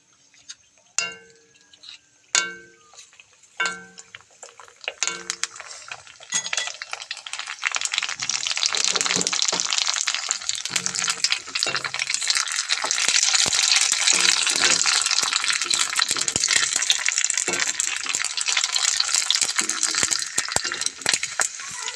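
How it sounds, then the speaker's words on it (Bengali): Fuchka puri shells fry in hot refined oil in a wok: a few clinks and taps first, then a loud, steady, crackling sizzle that lasts throughout. "রিফাইন অয়েলটা গরম হয়ে গেছে, এবারে দিয়ে দেবো এতে ফুচকা।"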